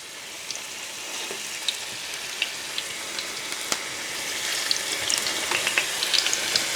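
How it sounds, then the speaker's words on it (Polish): Steady crackling sizzle of spiral-cut potatoes frying in hot fat, with scattered sharp pops and spits throughout, close and continuous. "I smaż ziemniaczki z obu stron do mocnego zarumienienia."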